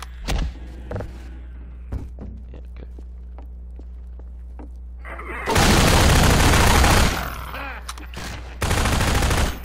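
Gunfire in Half-Life 2 as a headcrab is shot: loud broadband bursts, a long blast of several seconds followed by another near the end, after a stretch of quieter clicks and footsteps.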